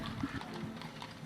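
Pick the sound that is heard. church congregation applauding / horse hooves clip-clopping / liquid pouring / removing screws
horse hooves clip-clopping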